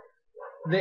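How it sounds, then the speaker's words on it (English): A dog barks in the background, a couple of short sharp yaps near the end after a quiet start, heard somewhat distant and under a room's ambient noise. "I'm sorry about my dog barking in the background."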